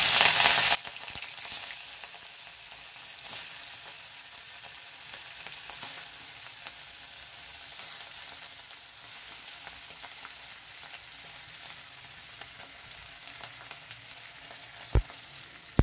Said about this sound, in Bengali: এবার এই ফোড়নের মধ্যে আমি এই মাছগুলোকে হালকা করে সাজিয়ে দিচ্ছি।